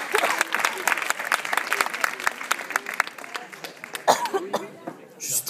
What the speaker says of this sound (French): ce que le public m'applaudisse